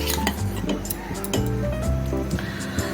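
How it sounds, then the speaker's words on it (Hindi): Batter being whisked in a bowl, with quick, steady clinking and scraping strokes against the sides at close range and faint kitchen background. "इसे अच्छे से फेंटेंगे हम लोग।"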